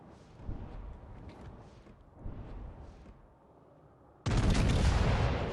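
Warship main guns fire in the naval battle game World of Warships: Legends, a few deep, distant booms rolling out early, then a sudden, loud, sustained roar of gunfire near the end.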